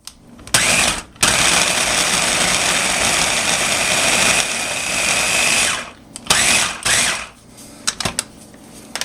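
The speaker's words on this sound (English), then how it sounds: "we're going to zap this with the food processor for a little bit" A food processor whirs steadily for several seconds, chopping pie crust ingredients, then cuts off and pulses again in short bursts with brief pauses between.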